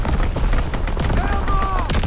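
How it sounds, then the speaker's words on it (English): Strafing run gunfire from a fighter plane in Call of Duty: WWII, a dense, continuous burst of loud gunshots and booms filling the whole moment, with a tonal whine sweeping across partway through. "Strafing run inbound."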